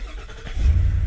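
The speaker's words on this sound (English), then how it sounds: "So start the truck first." A Ford Super Duty pickup truck engine cranks briefly and then catches, rising into a loud, close low rumble as it fires up.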